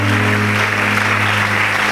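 A church congregation at a morning service applauds and cheers together, a dense steady wash of clapping and voices with a low sustained hum beneath, loud and continuous throughout.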